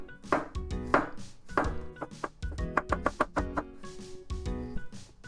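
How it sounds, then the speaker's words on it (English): A knife chops mushrooms on a cutting board, giving a series of close, irregular thunks and taps with short pauses between cuts. "I'm just gonna cut the bottom kind of dark part off"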